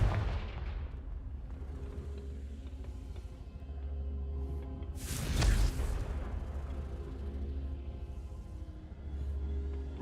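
One booming Confringo fire-blast spell in Hogwarts Legacy erupts loudly near the middle over a constant low game ambience, then fades back into the steady background hum.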